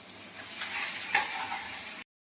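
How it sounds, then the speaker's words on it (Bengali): Spiced tarka tempering poured slowly into a pan of red, well-fried masala, giving a steady close sizzle with one sharp crackling burst partway through, then cutting off abruptly. "আমি তরকাটা আস্তে আস্তে দিয়ে দেবো"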